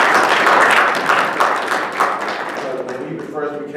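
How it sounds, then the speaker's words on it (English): Crowd applause for Mayor Marty Small at a community breakfast: dense, steady clapping that slowly thins out, with a voice starting up near the end. "So please give Marty Small a round of applause."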